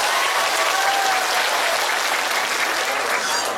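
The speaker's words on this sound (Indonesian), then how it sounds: "Tepuk tangan untuk Mas Bupati." An Indonesian audience at a religious gathering applauds the regent: a thick, continuous wash of many hands clapping together, loud and even from start to finish, with no voices over it.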